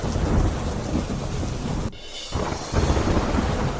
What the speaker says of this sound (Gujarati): સુરતના માંડવીમાં ધોધમાર વરસાદ